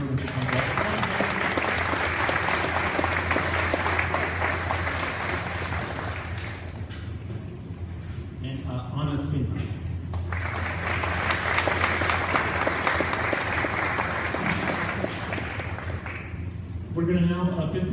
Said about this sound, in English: we can clap for her when she comes up.